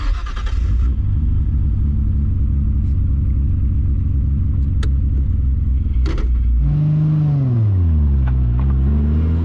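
A Nissan Skyline GT-R with an RB30 engine idles with a deep, steady rumble, then revs and pulls away, its engine note rising and sweeping through the gears, loud and close.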